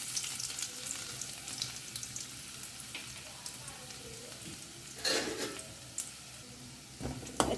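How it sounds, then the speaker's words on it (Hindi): A spoonful of garlic frying in hot oil in a kadai, with a steady loud sizzle and occasional bursts of stirring, no talking. "और अब इसमें डालते हैं 1 बड़ा चम्मच लहसुन।"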